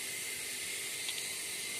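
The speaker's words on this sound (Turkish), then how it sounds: "ben kaynatıp hızlıca buharlaşmasını sağlıyorum arkadaşlar" Seawater boiling hard in a pot so it evaporates down to salt, giving a steady, fairly faint hiss of steam and bubbling that runs unbroken and alone.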